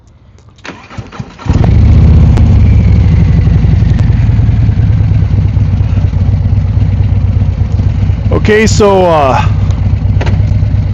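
A motorcycle engine starts close by and settles into a loud, steady idle, with a brief higher revving burst near the end and a few words spoken over it.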